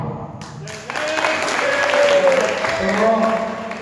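An audience claps through a Jain sermon in Balaghat, a dense burst of applause that swells and holds, heard under a voice speaking.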